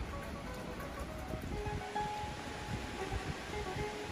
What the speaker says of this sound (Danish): Og så regner det.